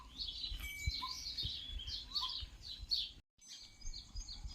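A flock of sparrows chirps continuously, quick overlapping tweets with a brief silent break, set against low background noise.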